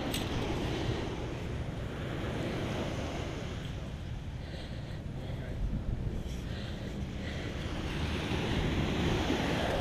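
Ocean surf rolling onto a Florida beach at Madeira Beach, a steady broadband wash of breaking waves with wind buffeting the microphone throughout, no talk.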